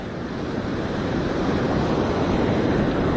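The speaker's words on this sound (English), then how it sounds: "I don't want to go too far because there's sneaker waves." Waves crash onto a beach as an angler stands knee-deep in the surf fishing for perch, a loud continuous roar of breaking water with wind noise across the microphone, no speech.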